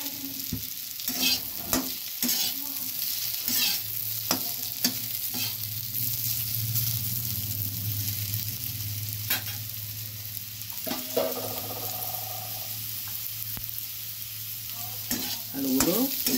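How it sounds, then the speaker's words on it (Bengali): Potatoes fry in oil in a kadai for a rohu fish curry with potato and drumstick, a loud close sizzle and crackle running throughout with frequent stirring scrapes and clicks. "আলুগুলো ভাজা হয়ে গেছে, এবার তুলে নেব।"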